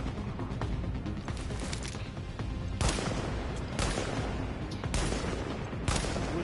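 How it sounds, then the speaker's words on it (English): Gunfire in The Division video game, rapid bursts of automatic shots crackling at moderate loudness, with a few sharper louder cracks standing out, no talk. "He wouldn't stop shooting at me."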